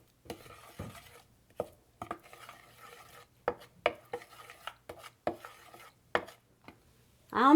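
Batter being stirred and mixed in a bowl for an Ethiopian breakfast, a series of separate scraping and clinking strokes at an uneven rhythm, close and fairly quiet, with short pauses between them.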